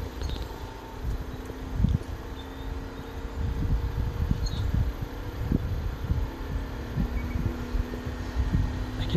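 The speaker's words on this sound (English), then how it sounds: "Hear that? That's the compressor." Carrier Infinity outdoor unit with its compressor and fan running at first start-up: a steady low hum with a faint whirring tone and soft irregular thumping throughout, heard alone without talk.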